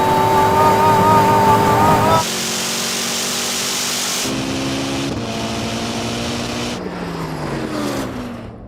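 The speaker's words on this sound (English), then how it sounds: "Now that Koenigsegg's flying." A Koenigsegg Regera accelerating hard in a drag race against a Ferrari SF90 XX, a loud sustained engine and drivetrain roar with a sudden drop in pitch, then shifting steady tones that fade slightly near the end.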